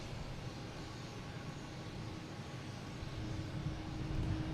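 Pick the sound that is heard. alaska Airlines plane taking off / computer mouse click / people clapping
alaska Airlines plane taking off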